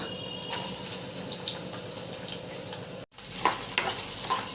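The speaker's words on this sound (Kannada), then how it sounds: "ಇದು ಫ್ರೈ ಆಗ್ತಿದೆ" Onion frying with ginger in coconut oil, a steady moderate sizzle with occasional stirring clatter, briefly cut by a short dropout before the frying noise resumes slightly louder.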